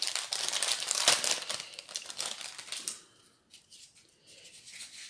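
A small piece of ribbon being handled on a decorated gift box, close crinkling and rustling with a sharp snip-like crackle, then fading to quiet faint fiddling.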